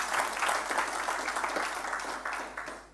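Audience applause at a corporate full-year results announcement, a dense steady patter of many hands clapping throughout, moderately loud and gradually fading toward the end.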